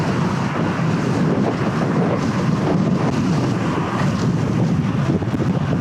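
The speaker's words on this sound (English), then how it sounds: "this headwind is crazy" A strong headwind roars across the microphone while cycling along a bike path near Tiger Leaping Gorge in Shangri-La, China. The rushing buffet is loud and constant throughout, with no talk.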